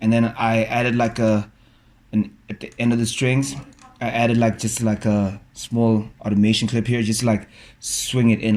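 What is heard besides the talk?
No everyday noise stands out behind the speech.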